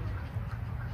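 Wild ducks at a park pond in Mile Square Park, California, giving a brief quack over low, steady outdoor background noise.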